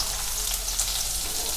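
Onions sizzle in hot oil with a steady, close crackling hiss that continues without a break and has no talk over it.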